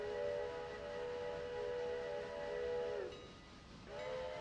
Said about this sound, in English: if you press V and pull your mouse down like I'm doing, you blow the whistle.